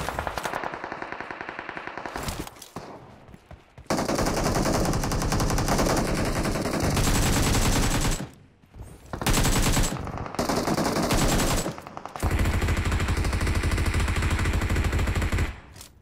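Loud, sustained bursts from an MG3 machine gun in a video game, with long rapid strings of shots broken by short pauses around the middle before the fire resumes heavily.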